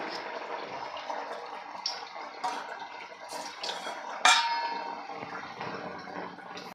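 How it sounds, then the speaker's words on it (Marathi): Sprouted green moong vadas drop one after another into hot oil, each landing as a sharp splash and clink over a continuous close sizzle. "आता तेलात जेवढे बसतील तेवढे वडे सोडायचे आहे"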